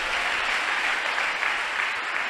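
An audience at a sermon claps in a dense, continuous wash of applause, moderately loud and even from start to finish.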